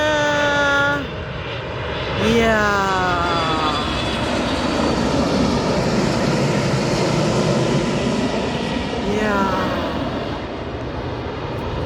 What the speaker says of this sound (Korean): 비행기 한 대가 지나갑니다